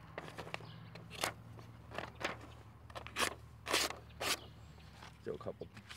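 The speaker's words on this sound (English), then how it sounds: "Now let's go back to cutting some paper." A Spyderco Military clone knife slices through paper in a series of short, crisp crunching cuts, about a dozen irregular strokes close to the microphone, with a voice talking in between.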